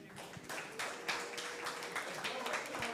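Audience applause for a podcasting panel at a creatives workshop, a steady broadband patter of many hands clapping throughout with a hum beneath and no clear speech.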